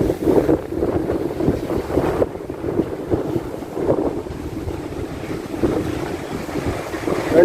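Wind buffets the microphone at Rambilli beach, where fishing boats sit near the surf, a loud rumbling gusty roar with waves washing underneath.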